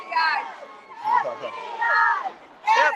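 A crowd chants outside a courthouse as a verdict is awaited, loud overlapping voices rising in repeated bursts across the clip, with shouts and cheering mixed into the babble.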